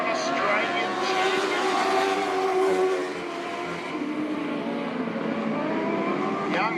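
GP midget race cars roar around Wahgunyah Speedway in Australia, loud and close, their high-revving engines whining and shifting pitch continuously as they pass.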